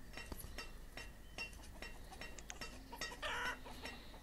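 Chickens in the village-building game Banished cluck in short, scattered bursts over a quiet background, with a faint clink near the start and a denser flurry of clucking toward the end.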